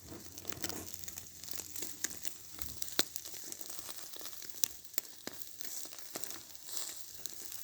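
Zucchini and eggplant sizzle on a hot grill, a steady crackle scattered with sharp pops and snaps, close by and fairly quiet, with no talking.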